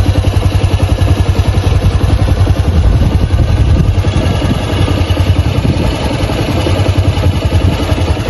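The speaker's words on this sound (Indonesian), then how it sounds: "Ini suara mesinnya, bisa teman-teman dengar." A Honda Vario 160 scooter engine idling after a CVT service, a steady close mechanical hum with a faint rhythmic clatter running unbroken and fairly loud throughout.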